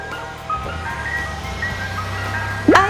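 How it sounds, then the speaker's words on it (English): An ice cream truck plays its tinkling jingle melody over a low idling engine rumble, with a sudden brighter swell near the end. "ice cream truck."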